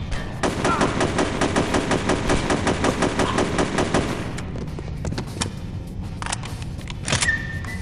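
Gunfire rattles in the video game Chaser, a sniper rifle fired down long prison corridors. A rapid, evenly spaced string of loud shots runs for about four seconds, followed by scattered sharper cracks and clanks.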